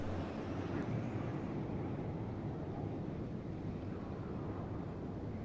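A steady roar of wind and water from a played-back video, a continuous broad rush with no breaks, moderately loud and heard alone without talk.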